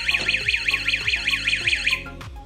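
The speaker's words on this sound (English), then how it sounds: "It's mounted on the door and flashes when opened. In addition, it beeps at 105 decibels" A door-mounted security alarm sounds a loud, piercing beep that sweeps up and down in rapid, regular cycles, then cuts off after about two seconds.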